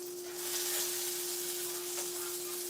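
Bacon fries in a frying pan with a steady close sizzle and hiss, a constant crackling wash with a faint steady tone running beneath it.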